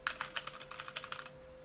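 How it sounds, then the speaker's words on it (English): Rapid clicking of a computer keyboard being typed on, a steady run of crisp keystrokes over a faint electrical hum. "I see you click-clacking"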